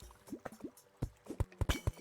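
Water in the Terraria video game, a run of small dripping and splashing plops in a quick irregular rhythm, faint and close.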